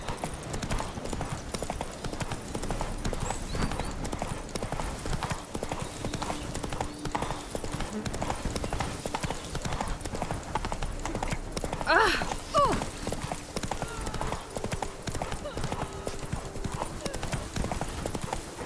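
Roach the horse gallops in The Witcher 3, hooves pounding in a rapid, steady clip-clop rhythm throughout, loud and close, with game music and a voice speaking over the hoofbeats.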